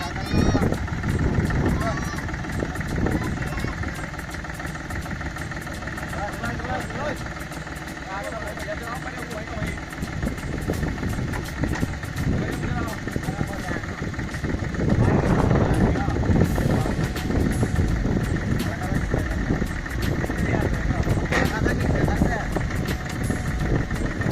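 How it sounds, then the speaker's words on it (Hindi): A Force Abhiman tractor engine, started with a makeshift setup, idles with a steady clattering chug that swells louder partway through, heard close outdoors under ongoing talk. "तो भाई देखो किस तरह जुगाड़ है, स्टार्ट होगा ये ट्रैक्टर।"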